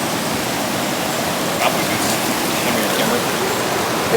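Creek water flows beside a riverside campsite as a steady, broadband rush that stays even and continuous throughout, with a few faint higher splashes near the middle.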